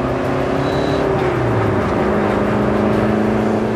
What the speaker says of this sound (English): that whirring turbo, the pop-off valve when you close the throttle, is really exciting